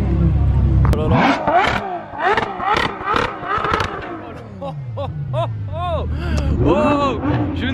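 A Ferrari 812 Superfast V12 fires off a series of sharp, loud, close revs climbing high in the rev range, with rising and falling engine wails, and excited voices are heard among them.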